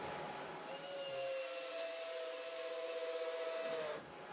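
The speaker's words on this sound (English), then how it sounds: "I'm using a drill" A drill driving screws into wood whines steadily for about three seconds at a constant pitch, close by, then stops abruptly.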